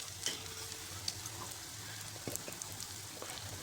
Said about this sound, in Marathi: मिडियम फ्लेमवरती तळू द्यायची पलटून घ्यायचे